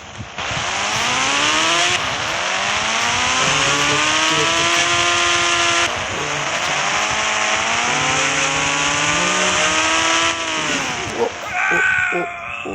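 A KTM 250 motorbike engine in a video game revs loudly and continuously, its pitch rising and falling through several long sweeps before dropping off near the end.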